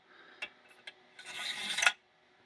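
A knife blade is drawn through a two-sided stone sharpener that holds stones of different grits and works both edges at once. Two short scrapes are followed by a longer, rising rasp, close up with no talking.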